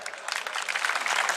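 A crowd at a village wrestling ground in Maharashtra claps for the donors, a brisk burst of applause filling the air for a moment.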